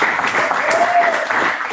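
Attendees at a sales meeting clap briefly in a round of applause, a moderately loud burst of scattered hands with some murmuring mixed in.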